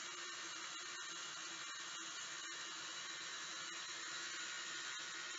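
An electric mixer running on low speed blends dry ingredients into chocolate chip cookie dough, giving a steady, loud motor whir with a faint rhythmic beating from the bowl, heard alone without any talking.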